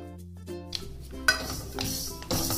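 Garden cress seeds and fenugreek being stirred and dry-roasted in a kadhai, with scraping and clinking of a utensil against the metal pan in uneven bursts, a soft sizzle, and a louder clatter near the end.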